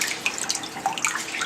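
Water runs and splashes from a tap while a pet bird is bathed, with close, irregular drips and patters for a second and a half and no talking.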